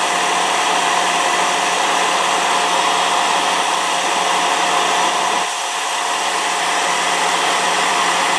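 Rear HVAC blower in a 2004 Chevrolet Tahoe blows air with a loud, steady, close whoosh, dipping slightly in strength partway through and continuing without talk.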